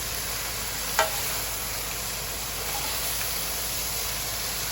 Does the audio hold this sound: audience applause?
no